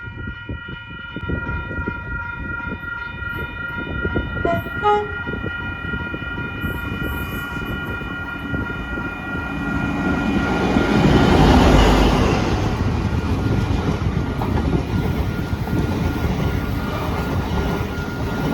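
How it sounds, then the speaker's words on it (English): Brisbane XPT passenger train passing Wondabyne station, a loud sustained rumble with a steady horn-like tonal drone early on, swelling to a peak near the middle as it goes by and staying loud to the end. "It is going to be an XPT. The Brisbane XPT to be exact."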